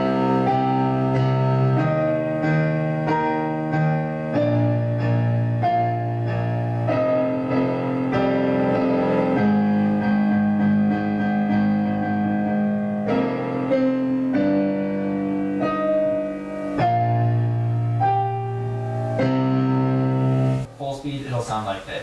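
A piano plays a piece in octaves, with full, ringing repeated chords in a steady driving rhythm, loud and close with no voice over it.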